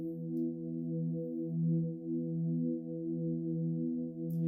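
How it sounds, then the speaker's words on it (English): Sustained synth pad holding a root note and its fifth with a higher octave, a soft, steady, gently pulsing drone in an Afro tech house track, playing alone at low level. "So the pad sounds like this."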